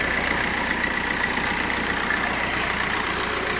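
A 2016 Maruti Brezza ZDI Plus diesel engine idles with an even, continuous hum and faint clatter at close range, with no talking.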